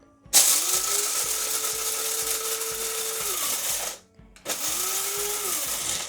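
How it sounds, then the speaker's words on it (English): A loud electric coffee grinder whirs steadily, rising in pitch as it spins up, cuts out briefly, then starts again for a second burst. "just a regular coffee grinder that you can buy any place"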